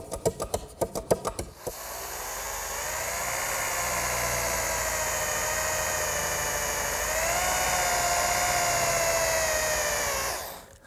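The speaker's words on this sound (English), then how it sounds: "these holes I'm drilling through the top of the metal brackets" A power drill bores holes through the top of metal garden swing brackets with a sustained high whine lasting about nine seconds, preceded by a quick series of sharp taps, close and loud, with no talking.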